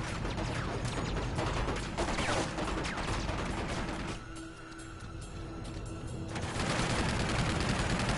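AK rifle gunfire in Uncharted 2 crackles in dense, rapid bursts amid mechanical clanks and game noise, with a short lull before the shooting resumes loudly.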